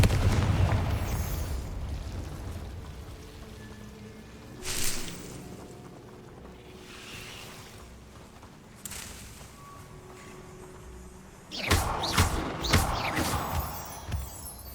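Confringo explosive spell cast in Hogwarts Legacy on PS5, heard as a few scattered booming bursts, the loudest near the end, over a low game ambience with no talk.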